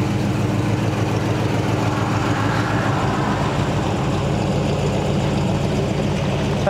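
A food truck's engine idles through glass pack mufflers, a steady, fairly loud low rumble with a slight pulsing texture, close by and with no talk.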